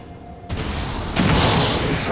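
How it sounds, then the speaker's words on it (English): Rocket launch and explosion in the game XCOM 2 with the Long War mod: a sudden loud whooshing burst followed by a second, stronger booming blast that keeps roaring as a sustained rumble. "So we're gonna open up with our rocket."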